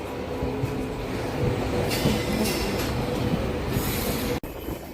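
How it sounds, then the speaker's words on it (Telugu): A Satavahana Superfast Express with LHB coaches runs on after pulling out of Warangal station, giving a loud continuous rumble with high wheel squeal and rail clatter heard from inside the train, with a brief dropout near the end. "వరంగల్ నుంచి మన ట్రైన్ బయలుదేరిపోయిందండి"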